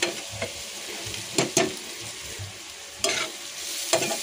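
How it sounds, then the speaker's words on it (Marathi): Onion fries in a pan for a dried-fish chutney, a soft, steady sizzle with scraping stirs and a few louder clatters of a spatula against the pan. "आपला कांदा फ्राय झाला"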